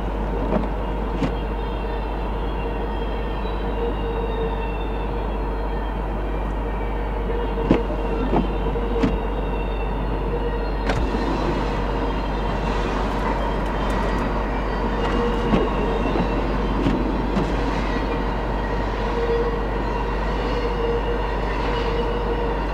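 A long freight train, a mile and a half or more, rolls steadily past through snow: a loud, continuous rumble of wheels and cars with occasional squeals and clanks, no voices.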